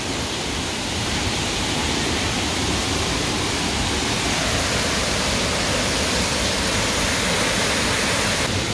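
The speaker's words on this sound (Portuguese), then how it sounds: "Aqui faz barulho da cachoeira" Waterfall at the Salgadeira, a steady, loud broadband roar of falling water that fills the whole clip without pause.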